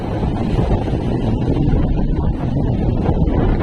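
Strong wind roars steadily across the microphone at sea while high waves churn and splash nearby, a constant loud rush with no voices.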